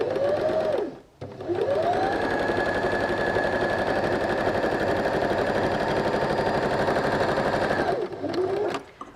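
A sewing machine zigzag-stitches along the long edges of fabric for a doll's pair of shorts, running as one steady, close, continuous whir with brief pauses at the start and end.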